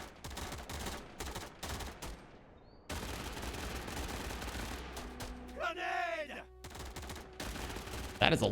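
Rimworld rifle squad gunfire crackles in dense rapid volleys at low volume, with short pauses, game effects and a voiced groan-like sound partway through.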